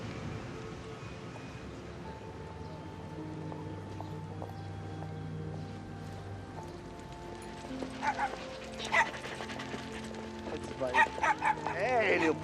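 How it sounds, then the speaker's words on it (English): A little puppy whimpers softly beneath a steady background hum, then lets out sharper, louder yips and barks in short bursts toward the end. "Hey, little puppy. Hey, puppy,"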